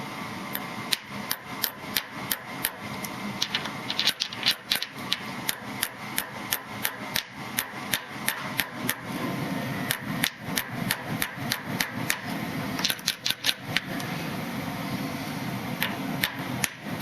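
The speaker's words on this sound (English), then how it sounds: "use a little tiny hammer here" Light, quick taps of a small hammer on a Puch fork tube centering ring repeat steadily over a constant mechanical hum, close and crisp.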